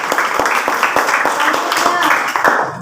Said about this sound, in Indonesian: Oke, tepuk tangan buat teman.